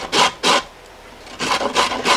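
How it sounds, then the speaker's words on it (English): A small carrot is rubbed hard against the fine holes of a box grater in quick raspy strokes, two at first, then a pause, then three more, close and crisp with no talking. "the smaller side of the box grater with the smaller holes. And then grate the carrot."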